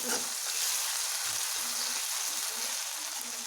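Onions and tomatoes sautéing in a pan for chicken gravy, a dense, steady, loud sizzle that continues without a break, with a few soft scrapes of stirring underneath.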